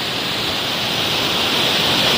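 A waterfall on a rocky river beside farm fields gives a constant, loud rushing roar up close, steady throughout with no voices.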